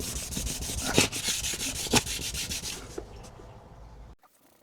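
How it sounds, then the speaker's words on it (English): Faded boat gelcoat is wet sanded by hand with steady, rhythmic rubbing strokes, close and moderately loud, slowing and fading out near the end. "we're gonna wet sand it a little bit to blend that in a little bit"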